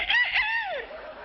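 A single rooster crow, close and clear, rising then trailing off in a long drawn-out call.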